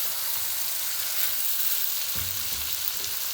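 Chicken sizzling in a pan with browned onions for Sindhi biryani, a steady broadband frying hiss throughout with louder crackling bursts as the pieces are stirred in the second half.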